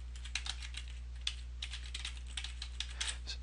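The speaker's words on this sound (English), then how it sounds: "So I'll type that in and click Add." A web address is typed on a computer keyboard in a series of light, irregular key taps over a steady low hum.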